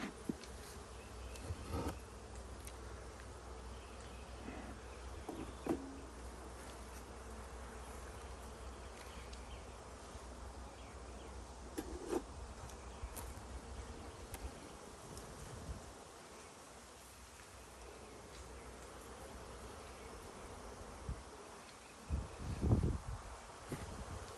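Honey bees buzz around an open beehive during an inspection before a honey super is added, a steady faint hum throughout with occasional soft handling knocks and no talk.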